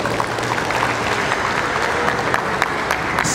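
A launch-event audience claps steadily for about three seconds, a dense, fairly loud wash of applause with no voices.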